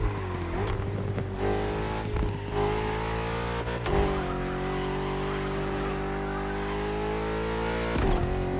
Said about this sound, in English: the gear changes.